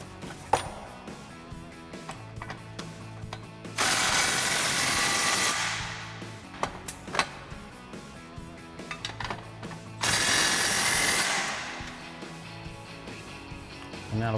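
A power tool tightens driveshaft bolts on a 2011-2014 Mustang GT while an aluminum one-piece driveshaft is installed. Two loud sustained bursts, each about two seconds, have quieter metallic clicks and clanks of tools between them.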